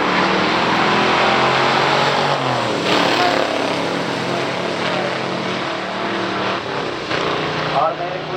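A 1972 Pontiac GTO 455 HO drag races a 1968 Olds W31 at a drag strip, with loud, sustained engine roar swelling and shifting over several seconds as an announcer talks over it.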